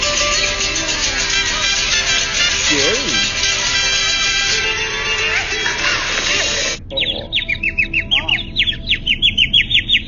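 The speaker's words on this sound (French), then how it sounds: "L'oiseau chantait pour eux de sa belle voix." A bird sings in a brief series of bright, rapid chirps near the end, following a busy stretch of other sound in a French children's tale about a snow-white bird.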